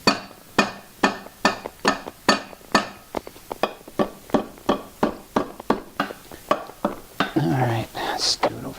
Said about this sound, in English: Or maybe just hammer it with a hammer.